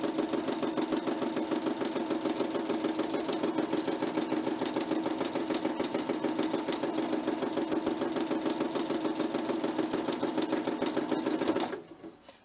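A sewing machine runs steadily through free motion stitching in black cotton thread, a loud, continuous rapid mechanical chatter that carries on alone for about eleven seconds before stopping abruptly.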